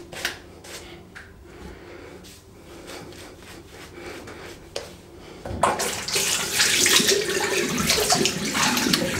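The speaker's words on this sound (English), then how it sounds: "A little bit of water on the brush there." Tap water runs onto a boar-bristle shaving brush during a shave, quiet scattered clicks and rubbing first, then a loud steady hiss of flowing water for the last few seconds.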